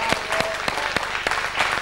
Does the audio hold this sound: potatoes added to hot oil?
no